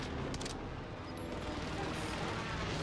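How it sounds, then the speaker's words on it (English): Precision airstrike bombardment in Call of Duty MW2 rumbles through a dense, continuous barrage of blasts and gunfire, loud and sustained throughout with brief bright crackles early on. "Oh my god, we just both precisioned each other. Enemy precision airstrike."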